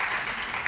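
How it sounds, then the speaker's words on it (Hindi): A brief burst of audience applause, a dense wash of clapping hands lasting under a second, fairly loud and with no talking over it. "इनके लिए ताली बजाओ"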